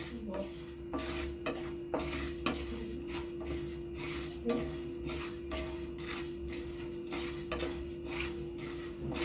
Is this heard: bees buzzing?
no